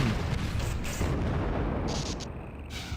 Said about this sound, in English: Excellent, the answer was explosion.